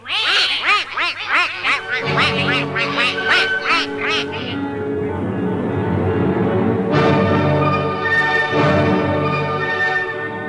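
A duck quacks loudly and close in a rapid string of calls, then gives longer, drawn-out quacks in a children's ugly duckling story.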